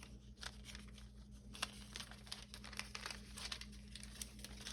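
Thin metal leaf crinkles and crackles as it is handled for earring making, soft irregular rustles and crisp crumpling bursts over a low steady hum.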